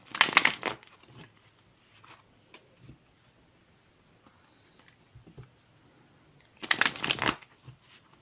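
Tarot cards are shuffled in two short, crisp riffling bursts, one at the start and one near the end, with quiet light handling in between.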